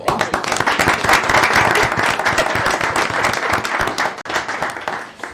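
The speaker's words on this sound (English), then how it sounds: "One more round of applause" An audience at a city council meeting breaks into a round of applause, a thick wash of clapping that swells and then thins, with a brief dip before picking up again near the end.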